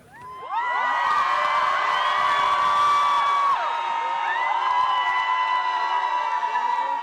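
Supporters of Maria Corina Machado cheer, whoop and shout outside a hotel in Oslo, a dense crowd roar that swells in and stays loud and continuous throughout.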